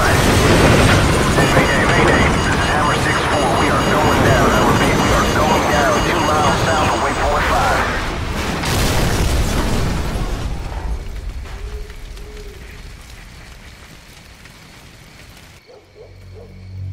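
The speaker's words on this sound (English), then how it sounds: "Incoming missile!" A long, loud roar of an incoming missile strike and explosion in Call of Duty: Modern Warfare, with rumbling debris and blasts that slowly die down, shouting voices mixed in.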